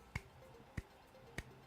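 Three sharp claps in a steady, evenly spaced rhythm, each a crisp broadband snap with a clear gap between, sounding close and dry over a quiet background, used as a short commercial clap sting in a weekly EV news bulletin.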